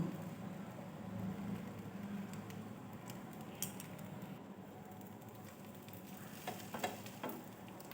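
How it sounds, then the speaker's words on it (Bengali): A paneer sandwich toasting in a little oil on a hot tawa: a steady, soft sizzle throughout, with scattered small crackles and scraping taps, close and fairly quiet, no talk. "হালকা অল্প তেল এরম বুলিয়ে দিয়ে জাস্ট গরম করে নেবে ভালো করে তাওয়াটা তাহলেই হবে দুদিকে ভালো করেই আমি সেঁকে নেবো"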